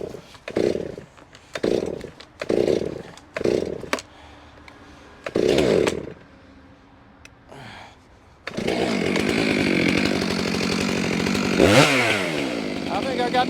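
A chainsaw bites into wood, loud and continuous for the second half, with a revving pitch sweep near the end; earlier, short bursts of rough sawing or pull-start attempts come in bursts separated by gaps, with some talk in between.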